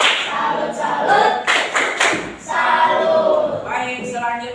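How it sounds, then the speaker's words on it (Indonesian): A primary school class bursts into rhythmic group clapping to salute a student, several short rounds of claps mixed with children's voices and a teacher speaking. "Tepuk salut untuk Jaki."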